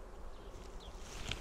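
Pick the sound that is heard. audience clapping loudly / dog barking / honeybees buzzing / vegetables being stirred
honeybees buzzing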